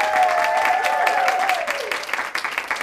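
A studio audience claps steadily and fairly loudly for about three seconds, with a voice talking over the applause before the clapping thins toward the end.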